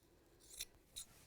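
Scissors snip through bag fabric twice in a row, two crisp close cuts a moment apart, very quiet overall with no talking.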